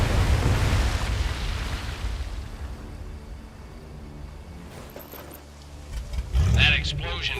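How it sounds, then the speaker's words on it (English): In the Medal of Honor VR game, a heavy explosion opens with a loud rumbling burst that decays into a long, low debris tail, followed later by voices talking. "That explosion got the attention of all the German patrols in the area."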